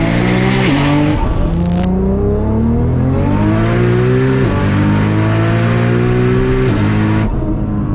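A 900hp Cadillac CTS-V fitted with a 2.9L Whipple supercharger pulls hard through repeated gears, loud rising engine notes stepping up with each shift and a brief high whine near the start, no voices.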